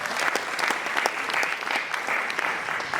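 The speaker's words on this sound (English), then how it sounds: "We need to clap for that." A crowd claps steadily at an African Heritage Month proclamation ceremony, producing a dense, even wash of applause that stays fairly loud throughout.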